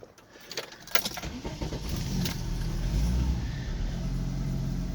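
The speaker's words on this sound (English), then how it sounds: "Car starts up and runs good." An older car with power windows and a Sony tape player cranks with a few clicks and jangles, then its engine catches and settles into a steady, fairly close idle.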